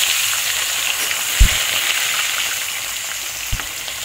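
Four kalbosh fish heads fry in hot oil, producing a loud, even, close-up sizzle with a couple of soft low thumps.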